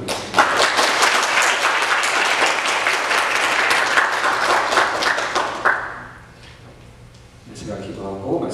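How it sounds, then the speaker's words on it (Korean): Congregation at a Korean church Sunday service applauding to welcome visitors: dense, steady clapping for about six seconds, then fading out as a voice starts speaking. "잠깐 일어나시면 저희가 박수로 환영하겠습니다."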